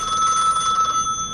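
A telephone rings with a steady electronic trill, loud and close, and the tone holds unbroken for the whole moment with no voices over it.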